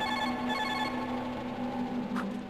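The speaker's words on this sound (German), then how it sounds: "Telefon." A telephone rings steadily inside a horror video game, a continuous electronic bell tone that fills the moment alone, without talk.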